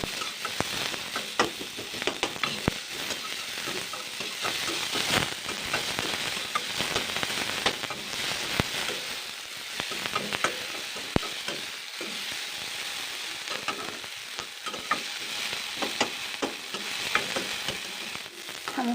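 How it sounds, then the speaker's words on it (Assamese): Small chopped pieces, in an egg and soybean dish, fry in a pan with a continuous close sizzle and crackle, dotted with sharp spatula or spoon scrapes and taps throughout, no speech. "এতিয়া মই সৰু সৰুকৈ কাটি থোৱা পিচবোৰ অকণমান ভাজি ল'ম ৰঙচুৱাকৈ"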